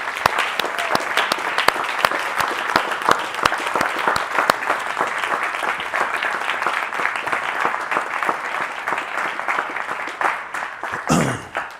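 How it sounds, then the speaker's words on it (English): Sustained applause from a livestream audience, dense hand clapping holding steady for about eleven seconds before tapering off at the end, loud and close with no talking over it. "Get up, give Mr. Yahuwah a hand clap"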